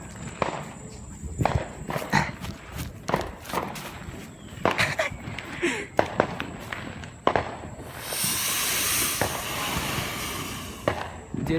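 Bottle rocket fireworks fired outdoors among other illegal-type fireworks, with sharp pops and cracks, footsteps and shuffling nearby, and a rising hissing whoosh of a launch late on.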